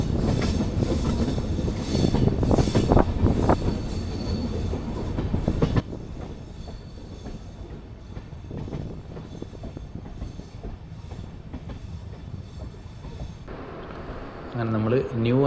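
A train labours up a ghat railway over the Sahyadri mountains near Aryankavu, its wagons rumbling and clattering loudly before the sound drops to a quieter, steadier roll, with wheels squealing near the end.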